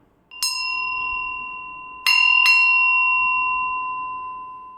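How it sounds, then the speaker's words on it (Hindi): A bell on a talk show stage is struck three times, once alone and then twice in quick succession, each strike ringing out clearly with a bright, sustained tone that slowly fades. "ये घंटी आप जानते हैं ना, क्यों बजाई गई है?"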